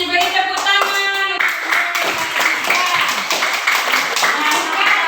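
Hands clapping in a classroom lesson follow a spoken cue, a sharp burst of claps rising and continuing with voices, including children's, talking over them.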